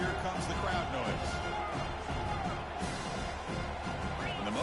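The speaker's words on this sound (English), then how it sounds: "And here comes the crowd noise." Dense, steady crowd roar fills a college football video game during an Orange Bowl matchup of South Carolina against Miami, a constant wash of cheering with faint scattered shouts throughout.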